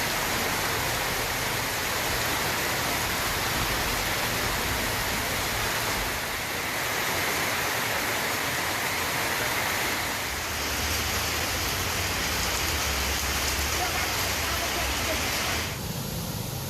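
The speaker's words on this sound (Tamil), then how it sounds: "திருவள்ளூர், திருத்தணி, திருவாலங்காடு பகுதிகளில் விட்டு விட்டு மழை பெய்து வருகிறது." Intermittent rain falling in the Tiruvallur, Tiruttani and Thiruvalangadu area, a steady dense hiss that briefly eases and thickens again, with no voices.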